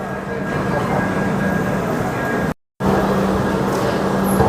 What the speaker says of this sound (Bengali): ট্রেন তো আমাদের ছেড়েই দিল